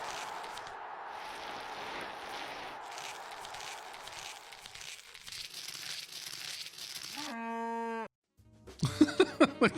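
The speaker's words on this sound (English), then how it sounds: "The cows moo." Cows mooing in the surreal idle game Tingus Goose, coming as a short burst of tonal game calls near the end, after a stretch of crinkly, rustling game noise.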